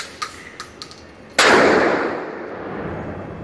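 A single loud, sharp blast from a Mossberg 590 shotgun, with a long decaying echo and rumble, preceded by a few faint clicks and taps.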